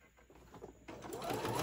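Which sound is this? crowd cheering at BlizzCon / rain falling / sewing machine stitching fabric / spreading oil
sewing machine stitching fabric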